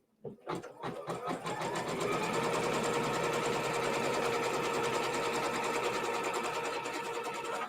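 A quilting sewing machine tacks a split rail segment of fabric onto stabilizer, starting with a few clicks and then settling into a steady, close mechanical whirr of rapid stitching that runs continuously to the end.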